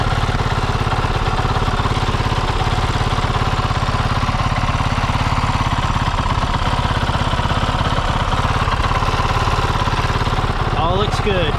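A Kove 450 Rally motorcycle engine idles after an oil change and new filter, a loud, steady, fast single-cylinder putter that holds unbroken throughout, with a brief rattle near the end.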